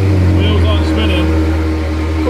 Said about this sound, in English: Coming off the clutch. Wheels are spinning.